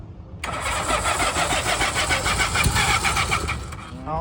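A German WW2-era air-cooled motorcycle engine catches after a brief pause and runs steadily up close, a rough, busy mechanical clatter that holds for several seconds before easing slightly.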